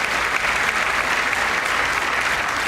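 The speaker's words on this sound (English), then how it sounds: "I wasn't sure if anybody even on this side was going to applaud for that." Applause fills a large chamber during a presidential State of the Union address, sustained clapping from many hands that stays even and loud throughout, with no voices standing out above it.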